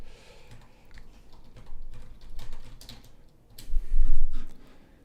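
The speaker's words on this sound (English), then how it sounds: "I will type that in the chat." Someone typing a chat message on a computer keyboard during a live modular-synth stream, with soft scattered key clicks that build into a denser, louder burst of typing before fading out.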